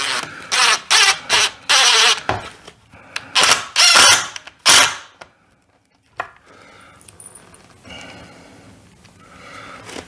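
Screws are driven into pocket holes in wood while fitting a baseboard register. A run of short, loud, close power-driver bursts gives way to a few quieter scrapes and handling noises.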